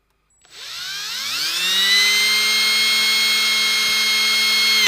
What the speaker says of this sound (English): So to fit the bridge plate, I'm going to drill some pilot holes.